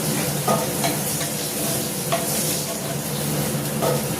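Fish pieces frying in oil as they are stirred, a continuous crackling sizzle with a few sharp scraping clicks from the spatula against the pan.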